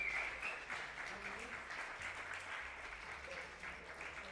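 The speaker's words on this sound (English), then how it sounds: "a well-deserved applause for the winner of this tournament, Supahsemmie" Audience applause at an esports Super Smash Bros. grand final at H20 Esports Stadium, a fairly faint, steady patter of clapping from a crowd, heard alone without speech.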